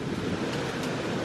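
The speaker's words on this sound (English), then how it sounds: "I can hear the sea" Sea surf near a seaside restaurant in Mexico: a brief, steady, broad wash of waves mixed with wind noise, with no talking.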